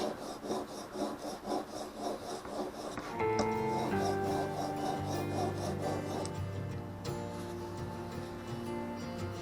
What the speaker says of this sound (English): Your stone's flat, so it's not going to damage your chisel by going at angles on it.